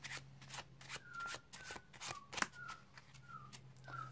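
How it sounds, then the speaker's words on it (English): A deck of playing cards riffled through an overhand shuffle produces a close series of soft crisp card slaps in irregular clusters, with one sharper snap partway through, heard alone and at low volume. "if I give another shuffle"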